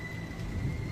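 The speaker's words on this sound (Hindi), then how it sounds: "तभी आसमान में जोर जोर से बादल गरज उठे और बारिश होने लगती है।" Thunder rumbling low beneath steady falling rain, a continuous dense patter with a deep rolling undertone, heard alone for a brief moment.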